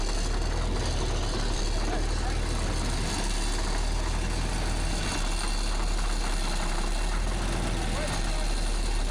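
A Caterpillar D6 bulldozer engine runs steadily with a loud, continuous low rumble, while voices talk over it.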